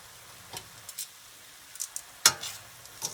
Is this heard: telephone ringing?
no